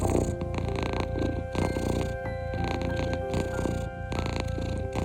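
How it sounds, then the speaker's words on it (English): A recovering cat purrs steadily while lying in bed, a loud, close, rumbling vibration that pulses in regular breath cycles for several seconds with no voices. "spent the day purring happily in bed"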